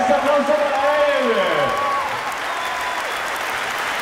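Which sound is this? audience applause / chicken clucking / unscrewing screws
audience applause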